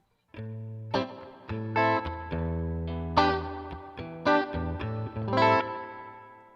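Electric guitar chords strummed one after another through a Line 6 Helix's older spring reverb, each ringing out with a washy reverb tail that blurs into the next.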